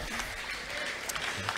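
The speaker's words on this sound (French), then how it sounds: "applaudissements." Quiet, diffuse applause from spectators after a race finish, a soft continuous patter of clapping heard from a distance.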